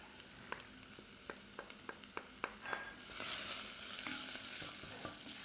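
Ground spices sizzle and bubble in a pan, with a run of sharp stirring taps over a steady crackling fry that swells louder partway through.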